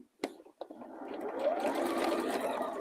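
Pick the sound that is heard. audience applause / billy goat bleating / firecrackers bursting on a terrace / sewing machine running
sewing machine running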